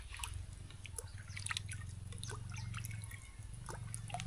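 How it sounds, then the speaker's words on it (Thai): Drinking water being scooped from a well, with close splashing, dripping and trickling over a low steady hum, and no voices. "พาตักน้ำกิน"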